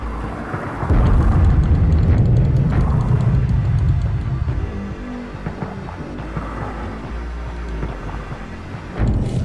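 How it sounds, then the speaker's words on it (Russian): Sea mines detonating underwater in The Aquatic Adventure of the Last Human, heard as a loud, deep booming rumble that swells in the first seconds, lingers as a heavy low roar, then surges again at the end, with no voices. "Вот, из-за чего я не хотел мины взрывать, видите?"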